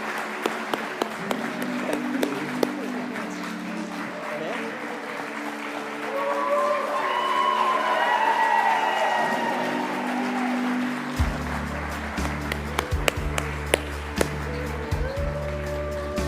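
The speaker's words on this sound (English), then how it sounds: "Round of applause for Annette" Audience applause at the Tasmania Australian of the Year Awards ceremony, a steady wash of clapping across a hall, with music or an announcer's tones running underneath and a low hum entering near the end.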